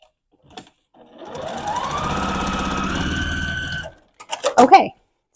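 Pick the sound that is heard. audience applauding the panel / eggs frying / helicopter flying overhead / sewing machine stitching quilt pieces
sewing machine stitching quilt pieces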